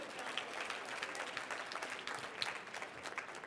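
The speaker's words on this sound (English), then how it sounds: "Come on, clap it out." Audience clapping at a workplace communication talk, a brief dense patter of many hands from a modest crowd, fairly quiet and even.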